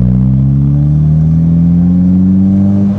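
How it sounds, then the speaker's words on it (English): A 2022+ Subaru WRX with full bolt-ons and an E85 tune pulls hard at wide open throttle in third gear, its loud, close engine drone rising steadily in pitch throughout. "we do a third gear wide open throttle pull"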